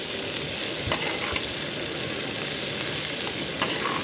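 Cauliflower florets fry in hot oil, turning golden and crispy, with a steady, dense sizzle and a few sharper pops and crackles rising from the pan.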